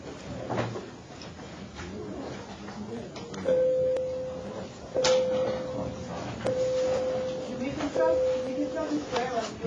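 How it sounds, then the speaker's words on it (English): A school classroom bell rings in several sustained electronic tones, steady and moderately loud, with a few clicks and background classroom noise between rings. "The bell just rang."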